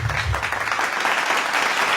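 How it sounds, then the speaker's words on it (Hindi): Audience applause for Shiva at a live stage event, a dense wash of clapping hands that holds steady and loud for the full two seconds, with no voices over it. "तो जोरदार तालियां हो जाएं शिवा के लिए"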